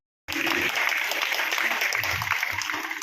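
Dense applause starts abruptly and carries on steadily, loud and close, a crowd clapping together without pause at an honouring ceremony for guests.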